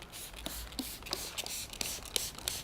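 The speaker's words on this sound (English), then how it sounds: "simply spray the surface of the vehicle that I'll be working on" Clay lubricant is sprayed onto a car's paint during detailing prep, giving several short, faint hissing bursts at a quick, uneven rhythm.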